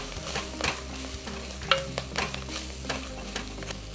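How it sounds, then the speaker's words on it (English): Baby clams dry roasting with salt and black pepper in a pan, stirred with steady scraping and clinking over a continuous close sizzle, no voices. "Let's give it a stir."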